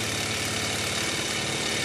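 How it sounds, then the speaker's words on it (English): A modified Mamod MM1 model steam engine runs steadily, its whole body shaking hard on an unstabilised base, producing a continuous loud rattling, chugging drone with no pauses. "whole engine shaking like mad"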